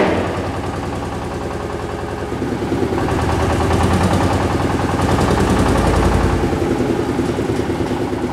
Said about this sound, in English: he's revving it up